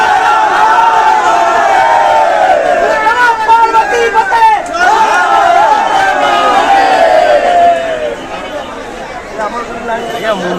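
Dense crowd at the Mahakumbh Mela in Prayagraj near the Sangam ghat, a loud continuous babble of many voices with shouts rising out of it, thinning slightly toward the end.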